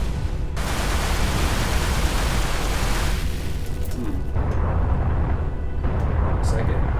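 Cluster missiles in the space shooter Everspace bursting into a dense, roaring wash of noise, loud and continuous, with a few sharper blasts late in the stretch.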